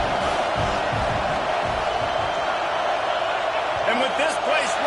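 A stadium crowd roars loudly at a football game as the place rocks during an offensive snap, a dense steady wall of noise with a commentator's voice over it.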